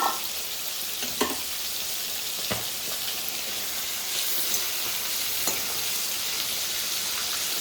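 Salted fish fries in hot oil in a pan with a loud, dense sizzle, broken by a few sharp clinks and scrapes of stirring.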